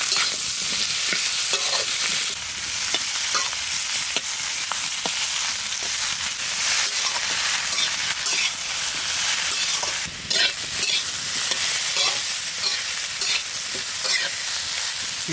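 Taro and prawn paste with onion, garlic and green chilli stir-fried in a pan village style, loud close sizzling that stays steady throughout, with frequent scraping strokes of the spatula.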